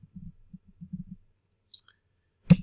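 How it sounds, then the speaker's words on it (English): Soft keystrokes on a computer keyboard patter in a short uneven run, followed by a single sharper click, quiet and alone. "So let's type in real estate"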